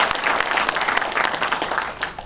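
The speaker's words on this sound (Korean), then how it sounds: "힘찬 박수 부탁드리겠습니다" Brief burst of lively applause from an audience at a political book concert and talk show event in Jeonju, dense clapping that rises and flickers over a couple of seconds.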